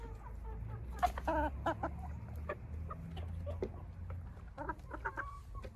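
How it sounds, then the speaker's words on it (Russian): Chickens feed outdoors from a mechanical hopper feeder, giving off scattered clucks and a few short calls over a low background hum and light pecking and tapping sounds, fairly close and moderately quiet. "Вот смотрите, как едят курочки на улице с механической бункерной кормушки"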